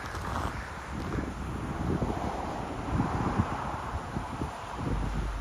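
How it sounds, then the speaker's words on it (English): Strong winter wind blowing outdoors in Russia near battered ice sculptures, a constant low roaring buffet against the microphone with gusty swells and no voices. "The wind got too unbearable to stay outside."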